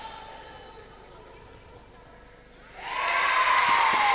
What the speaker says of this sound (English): A big cheer from the crowd.